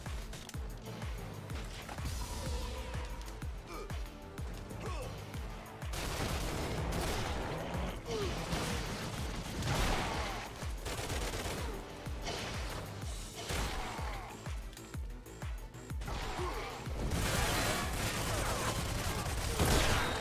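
Sniper fire and other gunshots in the PlayStation 3 game Crash Commando, with a long, dense stretch of repeated shots and crashing impacts in a busy online match.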